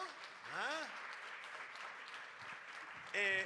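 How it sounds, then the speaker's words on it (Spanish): A church congregation applauds at a Sunday service as a pastor is introduced, with steady moderate clapping and a few voices calling out over it. "Dale un aplauso."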